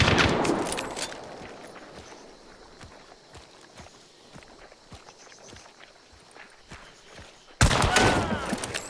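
In a shooter game, a loud burst of gunfire opens, then light scattered shots and footsteps follow at a lower level, and another sharp loud volley comes near the end.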